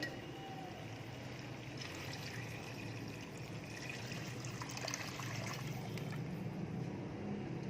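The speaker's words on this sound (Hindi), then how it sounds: "फिर इसमें 2 गिलास पानी डालकर" Two glasses of water pour and trickle steadily into a cooking pot of mutton karahi for several seconds, a soft continuous splashing close by, with no voices.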